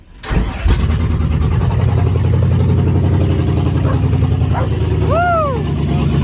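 An LS-swapped Ford F100 truck engine cranks and catches, then runs at a loud, rough, steady idle close by, with a short squealing sound near the end.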